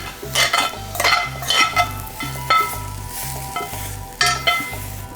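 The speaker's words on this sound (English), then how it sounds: "I'm gonna be adding this tofu right to here." Tofu sizzles while being stir-fried in a pan, with a steady frying hiss broken by rhythmic scraping and tossing strokes and the clink of a utensil against the pan, close and fairly loud.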